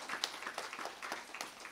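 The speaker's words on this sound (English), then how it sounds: "Can we clap for ourselves and see the sound going outside?" An audience claps together at an Arya Samaj foundation day celebration, a brief spell of quiet, scattered applause heard from some distance.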